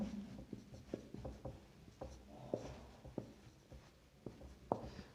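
Chalk or marker strokes on a classroom board come as scattered short scratches and taps at an uneven pace. They are quiet and close, with no talking over them.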